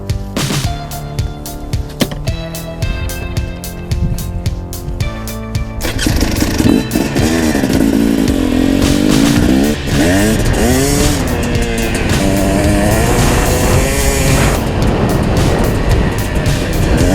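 A 2017 KTM 250 XC dirt bike engine starts with a choppy, pulsing idle and then revs hard in loud, sustained, rising and falling bursts close up.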